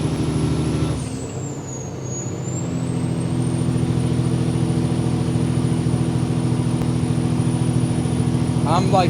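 Semi truck engine pulling uphill on a grade at about half throttle, a steady low diesel drone that holds for the length of the clip, with a brief hiss and someone talking over it.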